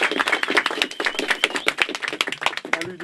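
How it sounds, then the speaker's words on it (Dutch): Steady crowd clapping at a local carnival celebration, close and lively, with dense overlapping claps throughout. "Geef een geweldig applaus."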